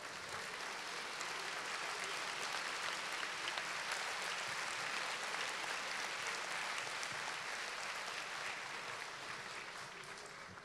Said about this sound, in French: Méfiez-vous avec ces applaudissements qui ressemblent à un bis